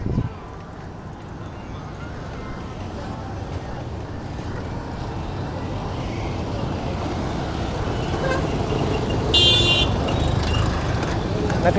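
Busy road traffic in Hyderabad, heard from a bicycle: a steady roar of engines and tyres with a brief horn toot near the end, while someone talks over it.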